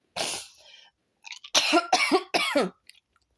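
A few sharp coughs: one on its own, then a quick run of three harsh coughs close together, loud and near, with no talking.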